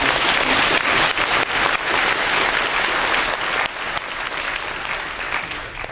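Sustained applause from a large church congregation, dense steady clapping that holds loud for several seconds and eases slightly toward the end.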